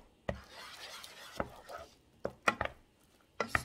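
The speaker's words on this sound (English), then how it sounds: "Stirring up my stuffing." Stuffing is stirred in a pot, giving sharp, irregular knocks and scrapes of a spoon against the pot with quiet pauses between them.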